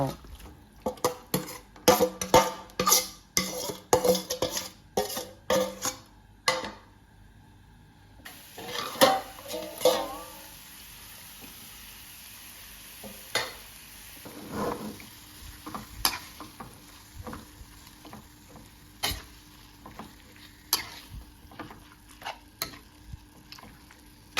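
Busy stir-frying meat in a pan over low heat: repeated scraping and clattering of a utensil against the pan over a low sizzle, with sharp metallic knocks throughout.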